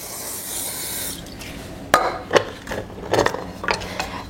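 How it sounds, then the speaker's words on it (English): Cooking spray hisses onto one side of a pie iron for about a second before a campfire meal in hot coals, followed by several sharp metallic clanks and knocks as the iron is handled. "So spray this side."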